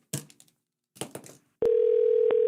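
A telephone dial tone while a call is being placed: a few short handling clicks and taps, then a loud, steady continuous tone that runs to the end.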